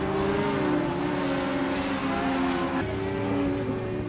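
Racing sidecar engines drone steadily at the Magny-Cours circuit, a loud continuous multi-engine roar that holds without breaks, its tone shifting slightly partway through as the machines pass.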